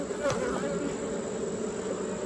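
Honey bees buzzing around a hive troubled by hive beetles, a dense steady drone with individual bees whirring close past the microphone, no talking.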